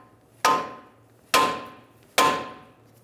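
Three sharp, ringing metal hammer blows strike the front strut assembly of a 2000-2007 Ford Taurus to free the tie rod castle nut, evenly spaced and close, each decaying quickly, with no talk.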